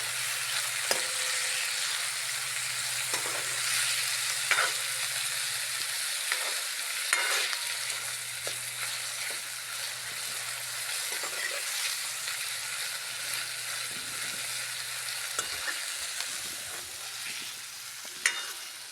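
Tomatoes fry in an onion and chili tempering, a continuous close sizzle broken by scattered scrapes and clinks of stirring, with no one talking.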